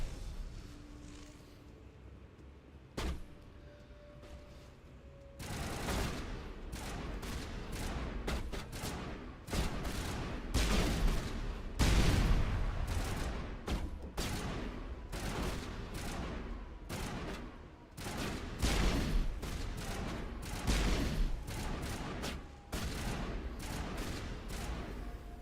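Shotgun gunfire in a video game: dense, continuous volleys of booming shots with irregular rhythm, many overlapping blasts at steady loudness throughout.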